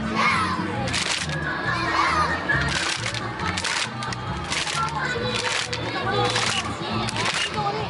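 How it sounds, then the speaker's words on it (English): Crowds of children clapping pieces of plastic together on a very hot day, a dense, continuous clatter of many clappers mixed with children shouting and chattering close by. "these kids are just clapping these bits of plastic together for hours on end"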